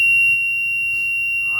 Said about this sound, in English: That's going to be your reverse buzzer